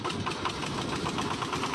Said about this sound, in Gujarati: ટ્રેક્ટર ઉપાડવાની નવી સ્ટાઈલ